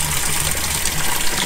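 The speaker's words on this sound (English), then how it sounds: "Then just top it up with a little bit of water." Water gushes steadily into the tank of a Bailey Advance 76-4T caravan on a serviced pitch, a close, continuous splashing fill with no pause.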